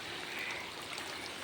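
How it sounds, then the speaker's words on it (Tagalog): A mountain stream flows along a wet, slippery trail, giving a steady soft rushing and trickling of water, close and fairly quiet, with no voices during the brief moment. "May ilog po kasi dito mga kabisnes."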